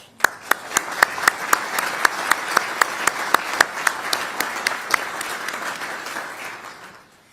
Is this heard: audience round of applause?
yes